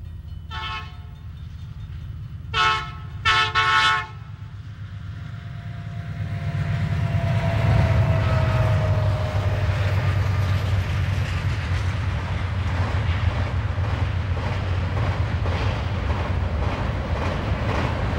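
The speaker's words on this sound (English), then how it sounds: "And the westbound mail flies through just a bit later." Westbound mail steam train on an American railway sounds two short horn blasts, then thunders through with a loud, steady roar and rolling clatter that swells and holds close.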